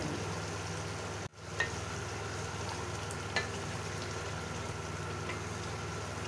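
Biryani ingredients being stirred and mixed in a pot, a steady soft sizzling hiss with a brief cut and a couple of faint spoon knocks, no voices.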